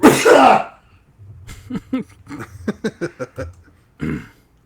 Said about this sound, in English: That was called a sneeze.